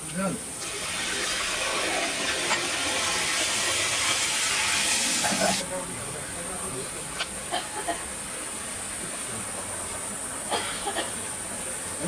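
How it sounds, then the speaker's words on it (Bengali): Water poured onto fried spice paste of chilli, coriander, turmeric and cumin powders for a village-style bata fish curry, giving a loud, steady steam hiss for about five seconds that then settles into a softer continuous sizzle with occasional pops. "মশলাটা ভোনা হয়ে গেছে, আমি ঝোলের পানিটা দিয়ে দেবো।"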